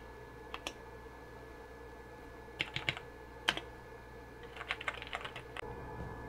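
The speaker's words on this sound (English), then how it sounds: "Got some keyboard response." Typing on a TRS-80 Model 100 computer keyboard, scattered quiet key clicks in short bursts over a steady low background hum.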